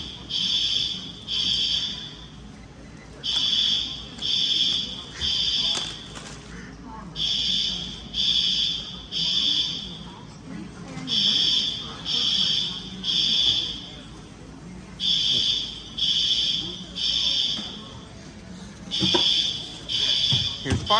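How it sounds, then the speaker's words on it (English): A fire alarm sounds inside a Costco store in Boise, Idaho, in repeating groups of three loud electronic beeps with short pauses, echoing in the large warehouse while people talk nearby. "It's a fire alarm going off at Costco."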